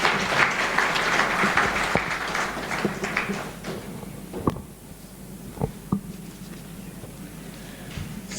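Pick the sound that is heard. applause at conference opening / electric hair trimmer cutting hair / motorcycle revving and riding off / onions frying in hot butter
applause at conference opening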